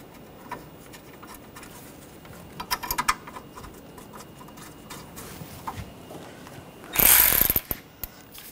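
A ratchet clicks in quick bursts while bolts are tightened on the A/C condenser bracket of a 2016-2022 Honda HR-V, close and fairly quiet, ending in a louder, longer spell of rapid clicking, with no talk.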